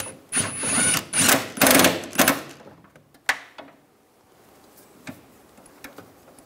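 Rear strut bolts are threaded in and tightened on a 2004-2009 Toyota Prius, with a few close bursts of ratcheting clicks and metallic rattles up front, then sparse faint ticks and taps trailing off.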